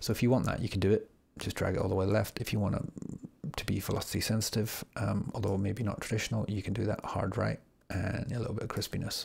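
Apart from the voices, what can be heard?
No everyday noises stand out.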